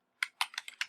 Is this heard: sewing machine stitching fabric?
no